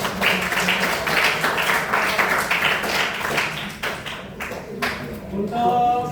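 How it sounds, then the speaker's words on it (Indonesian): Applause from a classroom of students after a group presentation, a busy patter of hand claps mixed with chatter and room noise, tapering toward the end with a few scattered claps. "Silakan beri tepuk tangan."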